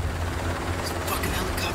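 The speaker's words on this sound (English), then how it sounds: "you got helos everywhere." Helicopters fly overhead in a crime drama scene, a low, steady rotor throb under a voice.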